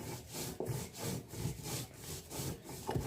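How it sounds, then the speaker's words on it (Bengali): Banana peels are ground on a flat grinding stone in rhythmic back-and-forth strokes, about two per second. The rasping rubs sound close and moderately quiet. "একটু শিলে ভালো করে বেটে নেব আগে"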